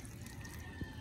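Water is poured from a jug onto young papaya seedlings in an outdoor farm plot, a faint, steady splash and trickle with a soft thud near the end and no voices.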